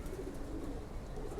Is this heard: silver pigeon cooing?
yes